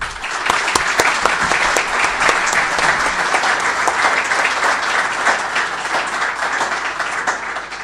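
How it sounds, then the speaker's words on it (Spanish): A university lecture audience gives strong, sustained applause for the Minister of Economy before his talk. Many hands clap at a steady, even level with a few sharp individual claps standing out. "quiero entregarle el más fuerte aplauso"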